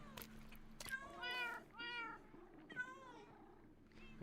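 A Siamese cat in the Minecraft game meows several times in quick succession, clear, high and close, with a soft steady hum underneath.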